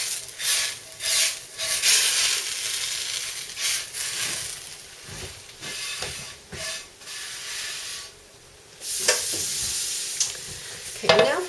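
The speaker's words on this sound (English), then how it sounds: "Wipe out my frying pan." A frying pan is wiped out with repeated close rubbing and scraping strokes in uneven bursts, with short pauses between them and a longer, harder swipe near the end.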